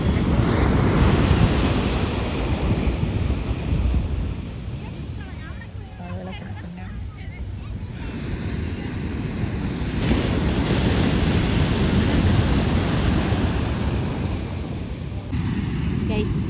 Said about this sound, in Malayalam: നല്ല വലിയ തിരമാലയാണ്.